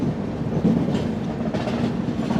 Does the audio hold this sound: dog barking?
no